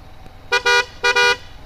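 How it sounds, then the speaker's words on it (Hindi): Two loud, bright blasts from an aftermarket horn on a Honda SP 125 motorcycle, each a short toot followed by a longer honk, over faint highway road noise. "चलिए मैं अभी आपको फिर से बजा के दिखाता हूँ हॉर्न"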